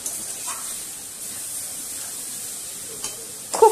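Chicken chow mein with mixed vegetables being stirred in a hot pan, giving a steady soft sizzle and hiss with a few light scrapes and clinks near the end.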